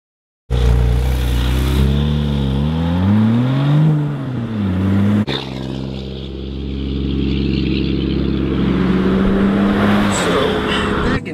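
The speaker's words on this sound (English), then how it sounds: "this is my 2007 911 Turbo. And I am going to take you for a ride." Engine of a 2007 Porsche 911 Turbo heard from inside the moving car, a loud steady drone that rises and falls in pitch through gear changes, then settles into a constant cruising hum.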